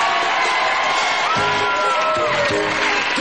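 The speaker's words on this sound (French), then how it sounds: "je vous demande d'accueillir sous un tonnerre d'applaudissements le grand, l'unique, l'inénarrable monsieur Gérard Vives." Studio audience on a 1998 French television game show erupts in loud cheering and whoops over a dense crowd roar, with music-like tones running through it, continuous for about three seconds.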